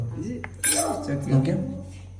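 A spoon clinks against a dish while fried silopi fish is tasted, giving a few light metallic knocks and scrapes close by, with a low voice murmuring underneath.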